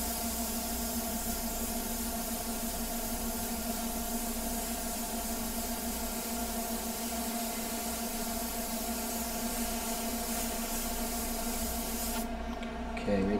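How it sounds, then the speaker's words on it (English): An airbrush sprays watery paint onto paper in one continuous, even hiss close to the microphone, holding steady for over twelve seconds before cutting off abruptly near the end. "Just spray some air on that."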